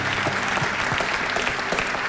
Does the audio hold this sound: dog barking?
no